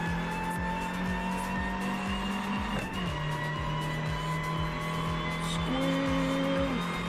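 A historic Mini in the Assetto Corsa racing game drones along under a steady engine tone, its tires letting out a short, thin squeal late on as it corners.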